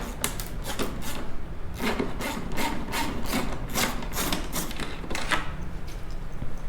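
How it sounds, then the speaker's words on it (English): Windshield screws being backed out of a 2020 Harley-Davidson fairing: a steady run of close, scratchy metallic turning and rasping clicks in rapid uneven bursts, with no talking. "take out the windshield screws"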